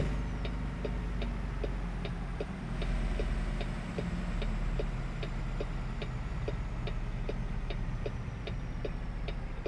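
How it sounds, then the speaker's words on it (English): A Peterbilt 389 turn signal ticks in a steady, evenly spaced rhythm over the truck's low engine idle inside the cab in American Truck Simulator, continuing for several seconds with no talking. "that way I ain't gotta hear the blinker"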